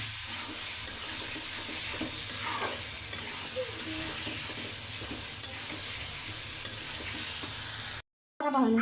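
Tomatoes sauté with spices in a pan, a continuous hissing sizzle with soft stirring scrapes throughout, broken by a brief dropout near the end.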